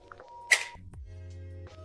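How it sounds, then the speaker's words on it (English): A vintage Adixaflex SLR camera shutter fires with a single sharp mechanical snap, close and clear, amid a quiet room hum. "Shutter comes down."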